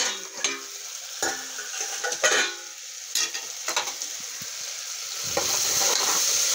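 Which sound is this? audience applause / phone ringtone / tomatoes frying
tomatoes frying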